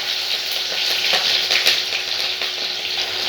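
Green chilies and onion frying in oil as a base for fish fry, a loud, steady, close sizzle with faint stirring, no voices.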